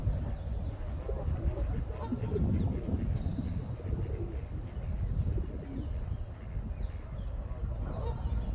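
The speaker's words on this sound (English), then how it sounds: "Different geese." Geese honk among ducks, seagulls and other birds at a waterside spot, the calls mixed into a continuous outdoor bird chorus with steady background noise.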